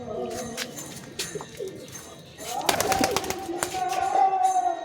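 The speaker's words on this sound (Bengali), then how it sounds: "এই যে পায়রাটা এখানে বসলো," Giribaz pigeons coo repeatedly in low, throaty calls nearby, with sharp clattering and flapping sounds mixed in and a louder stretch in the second half.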